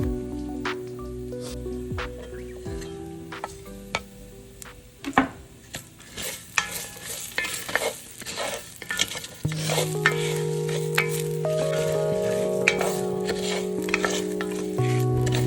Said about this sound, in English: We are going to saute the garlic until it's aromatic